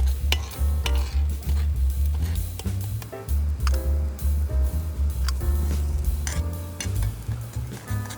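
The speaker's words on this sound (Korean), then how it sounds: "빈 곳에 달걀을 깨서 넣고 달달달 볶아주세요" Egg sizzling and being stir-fried in a hot pan for pad thai, with steady frying crackle and scraping of a utensil against metal throughout.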